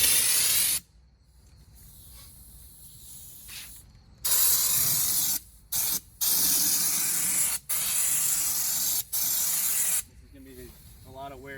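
Raptor liner bed coating sprayed onto a 2003 Ford Mustang outdoors, heard as a series of loud, steady hissing blasts from the spray gun, each lasting a second or more, separated by brief pauses.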